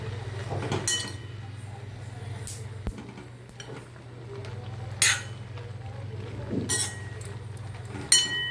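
Spinach bhaji cooking in a covered pan gets flipped, with a few metallic clinks and scrapes of utensil and lid over a steady low hum, sparse and close, no talking.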